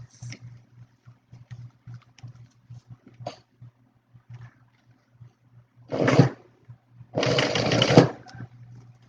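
A sewing machine stitches a seam on a small fabric wallet, firing in two short bursts, the second longer and louder, over a faint low hum with scattered quiet handling noises.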